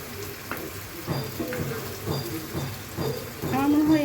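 Fish frying in oil with ground spice paste gives a soft, steady sizzle, broken by intermittent stirring scrapes and clicks, heard close but fairly quietly.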